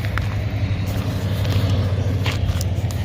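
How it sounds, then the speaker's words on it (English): Highway traffic rumbles close by at an RV campsite in the Arizona desert near Quartzsite, a continuous low roar of passing vehicles with a few faint clicks and scuffs over it. "Sorry for the noise, we're right along a highway"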